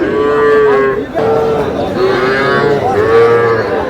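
Cattle, small bulls and calves at a livestock market in Kushtia, Bangladesh, a loud close drawn-out moo followed by a second long moo, with faint market murmur beneath.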